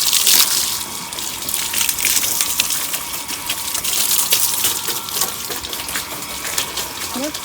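A motor pump sprays a strong, steady jet of water to wash a motorbike, a loud continuous hiss and splash close by throughout.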